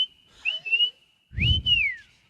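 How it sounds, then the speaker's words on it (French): A person whistles a short radio station jingle for Énergie 94.3 in two clear, close phrases of sliding melodic notes, with a brief low rumble under the second phrase. "Pourrais-tu me siffler le slogan, le nouveau slogan"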